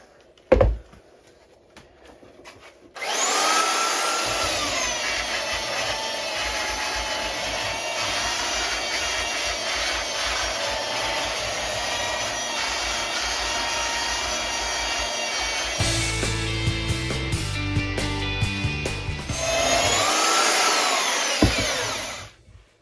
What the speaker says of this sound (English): once I got the rough sanding done